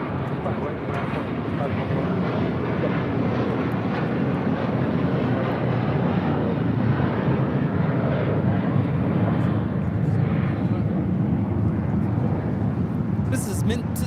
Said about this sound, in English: taking off to Fort Lauderdale, JetBlue 100, 6-year-old A321